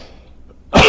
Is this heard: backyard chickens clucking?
no